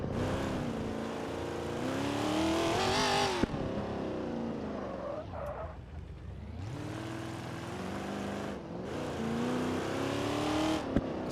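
Rough-running, hastily built car engine with a tube front end in BeamNG, revving loud and close with rising pitch sweeps, a brief drop around the middle, then pulling hard again through gears.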